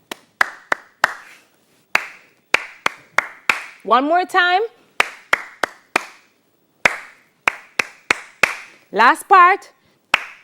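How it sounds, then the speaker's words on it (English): Sharp, separate hand claps beat out a syncopated body percussion rhythm in a Grade 10 music lesson, with short sung phrases breaking in twice and a teacher's voice speaking briefly. "So let us clap this part."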